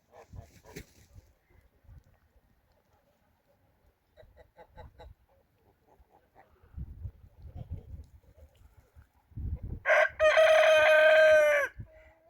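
Quiet farmyard with soft clucks and rustling, then a rooster crows loudly and close by near the end.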